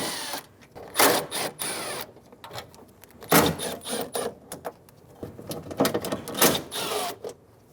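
A 10mm socket ratchets and turns the window regulator bolts on a 2007-2011 Toyota Camry, repeated close scraping, clicking bursts in short irregular bouts with no talk.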